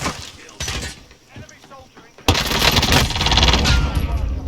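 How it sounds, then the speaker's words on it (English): Heavy automatic gunfire from Call of Duty Warzone on Rebirth Island bursts in loud and close, first in a short spurt and then in a sustained rattling barrage, with voices of players talking under it. "They're shooting me out here."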